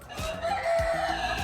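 Layer hens clucking and crowing in a backyard coop, several close, loud bird calls rising and falling over one another without talk.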